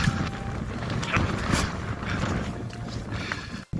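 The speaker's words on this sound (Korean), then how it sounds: "아, 바람이 진짜 세네요." Strong, gusty wind buffets the microphone on a beach at low tide, a steady loud roar with no voices, cutting off abruptly at the end.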